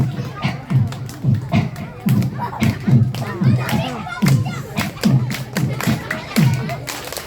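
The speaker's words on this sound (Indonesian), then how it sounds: "Kalian boleh dibantu dengan tepuk tangan" A group of children clap along with a Ramadan storytelling session, steady rhythmic rounds of claps in repeating bursts, with voices chanting over them throughout.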